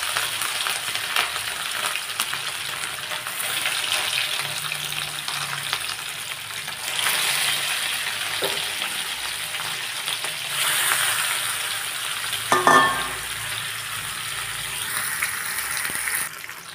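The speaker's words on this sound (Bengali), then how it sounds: "এই দেখুন মাছগুলো এখনো ভাজা হচ্ছে" Big pieces of katla fish fry in hot oil in a pan, giving a steady, loud crackling sizzle that swells and eases for the whole stretch, with one brief clatter near the end.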